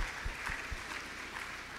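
Audience at a church question-and-answer session clapping, a faint, steady patter of applause with a few low thumps near the start.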